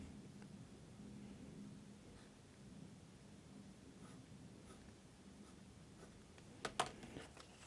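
Faint, close scratching of a uni Kuru Toga mechanical pencil with Hi-uni HB lead drawing on paper, a quiet continuous rasp with a few sharper strokes near the end and no talking.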